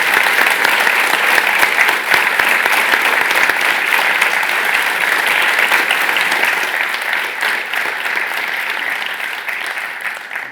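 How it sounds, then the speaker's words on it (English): A conference audience applauds Michael Beloff KC after a keynote interview on sports law, with dense, sustained clapping from many hands that stays loud and even, then tapers slightly toward the end. "Please give Michael a round of applause."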